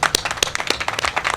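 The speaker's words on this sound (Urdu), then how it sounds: "ان سب کے لیے تالیاں بجائیں" An outdoor audience at a PHA plantation ceremony in Lahore claps for the gardeners: a short burst of dense, loud applause from a nearby crowd.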